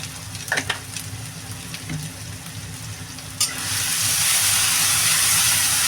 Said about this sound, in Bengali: পেঁয়াজটা দিয়ে দিলাম পেঁয়াজটা এবার ভাজা ভাজা হবে